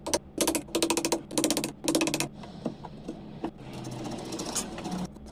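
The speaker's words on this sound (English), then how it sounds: "Now using the chisel." Chisel working a piece of wood during a small joinery craft build, giving bursts of rapid, rhythmic tapping and scraping strokes in several close groups, followed by quieter, steadier rasping.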